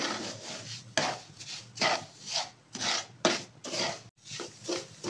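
Semolina frying in a pan for gujiya is stirred briskly, making a rhythmic run of dry, gritty scraping strokes, close and fairly quiet, with short pauses between strokes.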